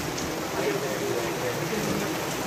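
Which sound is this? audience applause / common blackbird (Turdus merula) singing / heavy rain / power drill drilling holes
heavy rain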